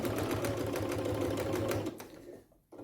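A sewing machine runs steadily for about two seconds while stitching the waistband of comfy pants over pins, with a close, even mechanical hum and rapid needle clatter, then stops and leaves quiet handling noise.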